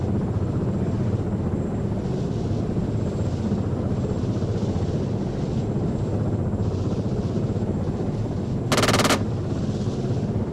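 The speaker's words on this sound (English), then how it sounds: "Move in, we'll hit it with guns." Gunfire in the military video game Arma 3: a continuous drone of aircraft or helicopter engine with a short loud burst of automatic gun fire near the end, no talking.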